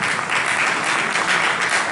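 Audience applause welcoming a singer and a guitarist onto a stage, a dense, steady wash of clapping that holds at an even level throughout.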